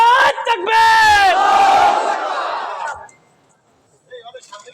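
A large crowd at an outdoor Islamic mahfil in Galua, Pirojpur, roars a chanted Allahu Akbar in answer to a takbir call, loud and sustained for a few seconds before fading, with faint voices afterward.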